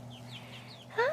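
Chickens in a garden coop make soft, short clucks and chirpy calls, close by and fairly quiet, with a louder rising call at the end.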